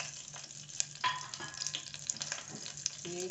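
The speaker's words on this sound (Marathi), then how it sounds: "हे 1 चमचा मेथी घेतली आहे ती टाकायची आणि ही 1 मिरची घेतली आहे बारीक चिरून" Fenugreek seeds and finely chopped green chili crackle in hot oil, a short burst of sputtering pops and sizzle with a sharper flare about a second in.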